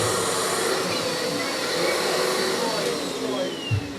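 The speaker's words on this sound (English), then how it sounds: "decided to do the hoovering" A vacuum cleaner runs steadily and continuously in a home room as a five-year-old boy does the hoovering, a loud, constant motor whine with no break, and a brief low bump near the end.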